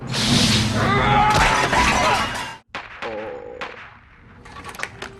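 Gunshots and crashing impacts in a Firefly TV episode, a loud burst of blasts followed by a brief silence, then scattered sharp hits and quieter rumbles.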